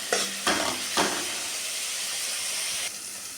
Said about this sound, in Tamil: வெங்காயத்தை நல்லா வணக்கி விட்டுக்கலாம்